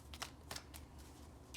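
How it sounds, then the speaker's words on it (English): Tarot cards being shuffled by hand, with a few quick, soft riffling bursts and papery flicks at close range, fairly quiet, with no talk. "Why am I having trouble shuffling these cards?"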